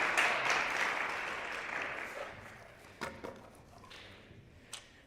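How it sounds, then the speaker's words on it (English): Applause for student contestants at a school speech showcase, a broad wash of clapping that is loudest at first and then thins out into a few scattered claps. "one more big round of applause to our contestants for the Creative Voices category"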